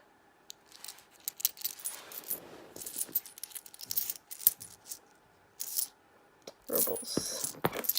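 Russian ruble coins rattle and clink close by in scattered bursts, ending in a longer jingling shuffle as they are handled, with no voice over them.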